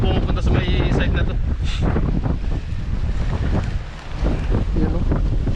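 Strong wind roars across the open sea on a fishing boat, a steady loud broadband rush buffeting the microphone throughout, with voices talking over it.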